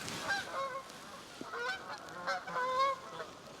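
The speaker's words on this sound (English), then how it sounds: "a bunch of geese were just in here and took off like crazy when I came in." Several geese honk repeatedly at close range, their nasal calls overlapping in irregular bursts.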